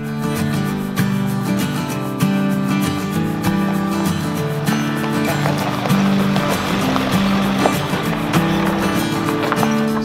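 A Bobcat skid steer approaches with a loud, steady diesel engine drone and rumble, close and continuous with clanking rattles throughout, no talking over it.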